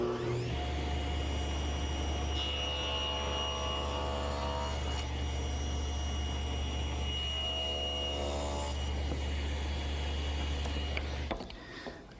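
A table saw with a miter gauge cuts a short wood piece held by clamp-downs at a 45-degree angle, its motor humming steadily for about eleven seconds with a faint rising whine as the blade works, then spinning down at the end.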